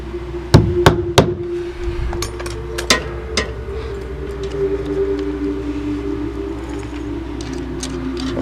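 A 2-inch nail is hammered into roof soffit backing: a few sharp close hammer blows in quick succession, then scattered lighter strikes over a steady background hum, with no talking.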